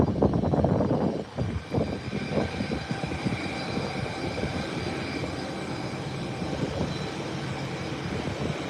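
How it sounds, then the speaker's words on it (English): A small aircraft taxis toward the runway threshold before takeoff, its engine giving a steady, moderately loud drone that runs unbroken throughout with no talk. "taxiing down to the threshold of the runway to make a 180 degree to take off"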